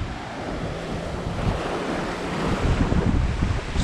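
Sea waves wash onto a beach where stones are being laid along the shore near railway tracks, a continuous rushing surf with wind buffeting the microphone and the swell building louder toward the end.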